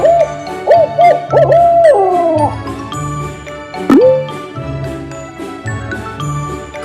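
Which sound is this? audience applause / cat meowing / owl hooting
owl hooting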